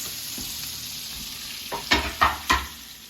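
Diced onion and celery cooking down in olive oil in a pot, a quiet soft sizzle with a few sharp scrapes of stirring near the end.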